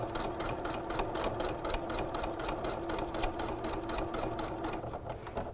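A sewing machine back-stitches over fabric strips for a woven windowpane panel, a steady, rapid mechanical whir with an even stitching rhythm, loud and close, running alone without any talking.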